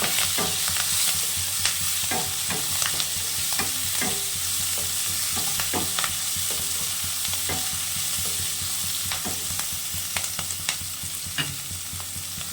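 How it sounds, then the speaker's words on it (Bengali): Steady sizzling of onions and chillies frying in a pan, with a spoon stirring and scraping at irregular intervals throughout; close and continuous, no talking. "পেঁয়াজটা ভাজা হয়ে গেছে"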